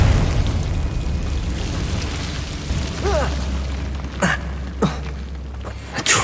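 A Confringo fire spell bursts during a Hogwarts Legacy fight, with a rumbling blast and crackling debris, followed by a couple of sharp impacts over a low sustained drone.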